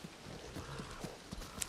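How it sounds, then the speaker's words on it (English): Horse hooves clip-clopping at a steady pace, a handful of soft, evenly spaced thuds heard at moderate distance over a low background hum, with no voices. "Oh, the horse."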